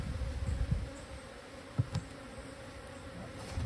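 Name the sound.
honey bees buzzing at hive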